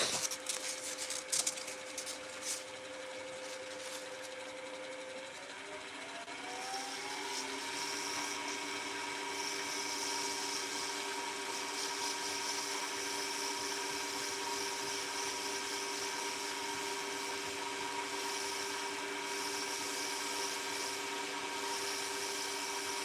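Power sander working on dense ebony wood, a steady continuous whine and hum that holds for the full length, its pitch shifting upward partway through as the tool loads or changes speed.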